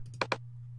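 Two quick, crisp computer mouse clicks close together, heard alone over a steady low electrical hum while editing in Final Cut Pro X.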